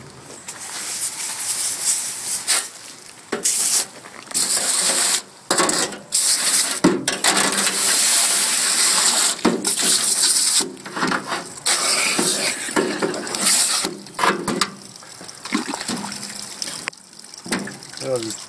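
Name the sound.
rinsing processed poultry with water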